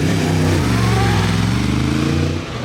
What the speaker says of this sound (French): Oh la moto là, elle est vénère.